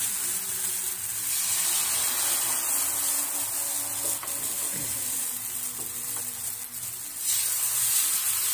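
Wheat flour batter sizzles on a hot tawa, a loud, continuous frying hiss that stays steady and close with small crackles.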